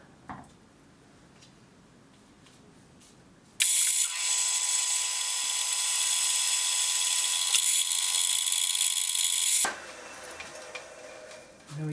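A drill cuts a 6.9mm hole for a 5/16 UNF tapping thread in a workshop, a steady loud high whine running for about six seconds with faint mechanical ticking before and after.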